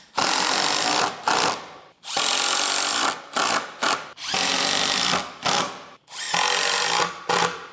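Power drill driving 1.5 inch silver screws into pre-drilled holes in wood while a drawer system for a Land Cruiser 250 is assembled, loud whirring bursts starting and stopping repeatedly with short pauses between them.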